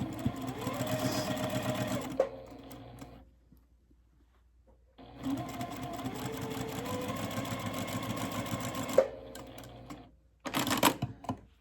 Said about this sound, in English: And again, sew a 1/4 inch along the bias edge.